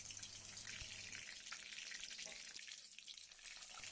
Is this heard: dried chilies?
yes